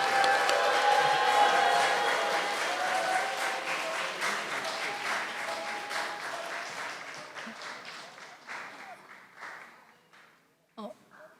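A crowd applauds a choir at a rally for peace and reunification, clapping loud and full at first, then thinning and fading as the round dies away, with a few last claps near the end.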